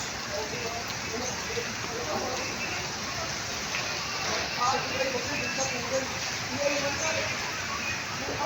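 Steady heavy rain hisses throughout, a dense, even wash of falling water with no break.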